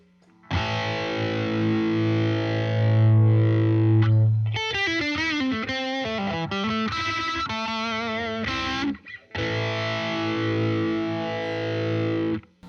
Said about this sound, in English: Let's just kick on the phaser, a really slow kind of whine.